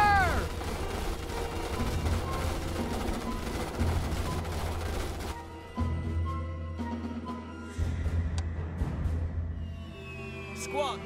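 Gunfire in the strategy game Starship Troopers: Terran Command, rapid automatic bursts over steady battle noise, with layered clatter and a few sharp cracks throughout.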